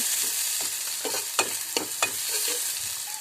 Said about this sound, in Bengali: পেঁয়াজ কুচি দিয়ে কিছুক্ষণ নেড়ে,